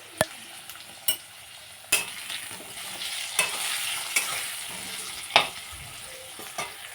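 Potatoes with turmeric, coriander and cumin powder and a splash of water frying in a pan, a steady sizzle broken by several sharp scrapes and stirs of a spoon against the pan.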